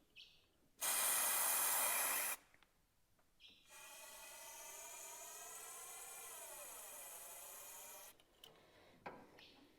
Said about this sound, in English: I'm going to come in here with some brake clean and just